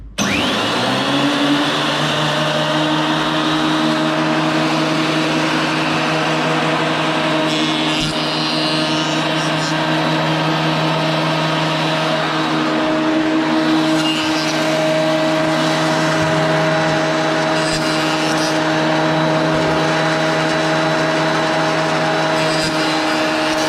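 A planer joiner combo machine in a wood shop starts up and runs continuously, a loud steady whine with a strong hum and no talk over it.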